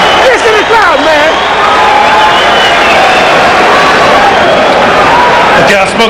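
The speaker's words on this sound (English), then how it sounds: "Listen to the crowd, man." Boxing arena crowd roars and cheers steadily throughout, a dense loud wash of voices with scattered shouts and whistles before a championship bout, with an announcer's voice over it.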